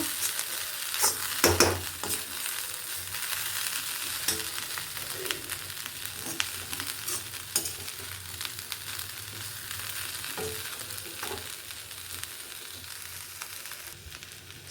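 Village-style sprouted horse gram curry (bassaru) boiling in a pot on the stove gives a steady, close bubbling sizzle throughout, with a few sharp clinks of a utensil early on and again later.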